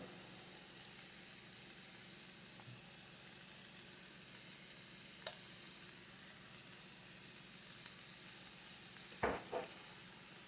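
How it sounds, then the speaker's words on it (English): Chicken sautés in olive oil in a pan, giving a soft, steady sizzle throughout, with a couple of faint clicks and a short sharper clatter near the end. "We'll let this saute up again"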